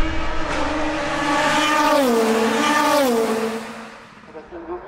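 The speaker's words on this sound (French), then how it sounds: "Le bruit des voitures" Race cars at the 24 Hours of Le Mans, a loud engine wailing through rising and falling gear shifts as a car screams past nearby, then fading into quieter track noise.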